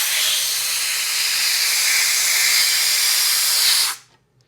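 A wax foundation press lets air rush back in with a loud, steady, close hiss lasting about four seconds before cutting off abruptly into near silence.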